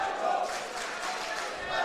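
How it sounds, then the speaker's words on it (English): A Jesuit crowd at a Holy Cross vs. Jesuit prep wrestling match chants a wrestler's name, a dense, steady roar of many voices filling the whole moment. "Now the Jesuit crowd is cheering out Michael Barnett's name"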